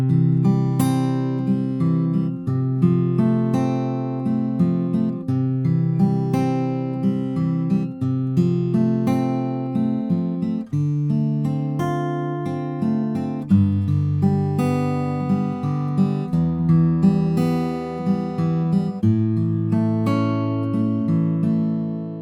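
Fingerpicked acoustic guitar plays an instrumental passage of a song, a steady rolling pattern of plucked notes moving through chord changes, close and clear, with no voices.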